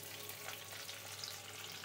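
Onions frying in oil in a wok, a soft, even sizzle heard faintly and steadily throughout.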